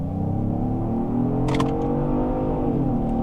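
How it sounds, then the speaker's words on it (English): A 2026 Genesis GV70 Sport SUV's 375-horsepower twin-turbo V6 pulls hard under full throttle, a loud steady engine drone rising in pitch, heard from inside the cabin, with a brief clunk midway. "the Genesis GV70 has a twin-turbo V6 engine producing 375 horsepower. And this is what it's like when you slam on it."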